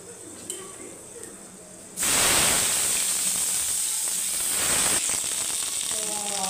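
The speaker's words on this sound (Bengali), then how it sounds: "পেঁয়াজটা ভাজা হয়ে গেছে" Chopped onions sizzle in hot oil in a pan for lentils, with a steady hiss rising suddenly and continuing loud and close, then easing slightly toward the end.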